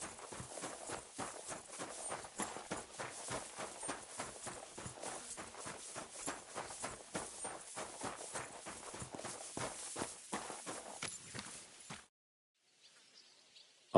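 Horse hooves clip-clop in a steady walking rhythm in Kingdom Come Deliverance 2, near and even for about twelve seconds before cutting out into near silence.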